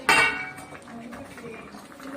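A pot lid lifts off with a sharp metallic clink, followed by softer rattling of dishes as a steamed egg dish is taken out, while a voice speaks quietly in the kitchen.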